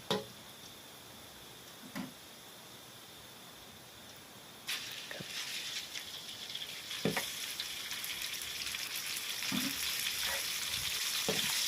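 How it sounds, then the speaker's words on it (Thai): Pork belly stir-fries with garlic in a pan, a faint sizzle that swells louder after a few seconds, with occasional clinks and scrapes of stirring. "ต่อไปก็จะใส่หมูนะครับเอาหมูลงไปผัดต่อเลยครับพี่น้อง"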